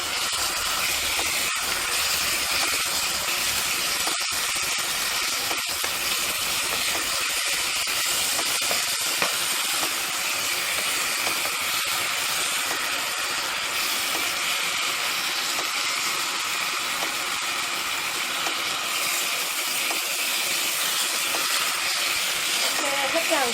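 A steady, loud sizzling hiss runs throughout as Chinese kale and pork stir-fry over high heat in a wok, with faint scraping clatters now and then.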